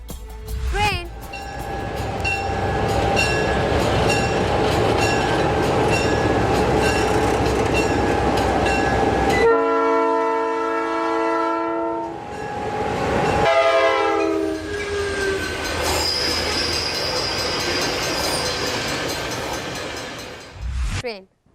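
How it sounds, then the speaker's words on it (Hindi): A train rumbles past close by with steady clattering wheels, while its horn sounds several loud blasts partway through and a high squeal rises near the end. "T R A I N train."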